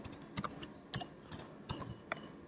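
Soft, quiet keystrokes on a computer keyboard as a command is typed, a handful of light clicks in an uneven rhythm, close by and alone.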